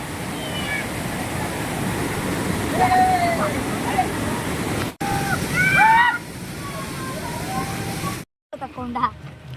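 A forceful waterfall pours with a steady, dense rushing roar throughout, joined by brief whistle-like calls and a sharp break near the end.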